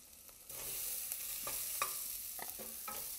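Yukon Gold potatoes and black beans go into a frying pan with garlic, setting off a sustained close sizzle that swells after a half second, with scraping stirs and knocks of the utensil against the pan.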